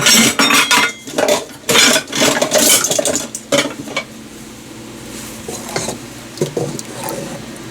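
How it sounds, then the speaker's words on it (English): A spoon stirs pectin into boiling flower jelly in a pot, giving bursts of close scraping and clinking against the pot for several seconds before it settles into a quieter bubbling and stirring background. "Stir in that pectin real quick."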